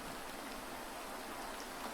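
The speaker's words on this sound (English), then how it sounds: "we'll go out on some of the beautiful sounds of the rain" Steady rain falling outdoors, an even, dense wash of drops pattering across surfaces with no pauses, close and continuous with no voices.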